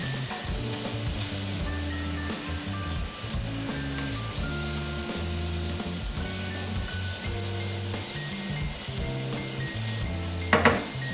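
Shoulder steak browns in olive oil in a pan with a steady, close sizzle and crackle throughout. Low background music plays, and a brief clatter sounds near the end.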